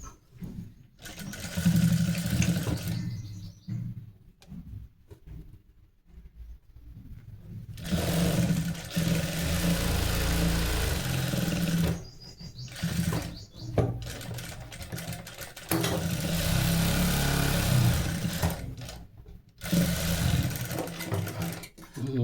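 A sewing machine stitches a boutique-finish blouse in several loud, whirring runs of a few seconds each, separated by short quiet pauses as the fabric is repositioned.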